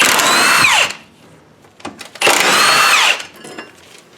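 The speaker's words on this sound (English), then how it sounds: "Now I take the wonder bar off. These are 15mm bolts." A power tool zips out 15mm bolts from a Detroit Speed Wonder Bar on a third-generation Camaro, two loud, close whirring bursts about a second long each, separated by softer clanks and handling noise.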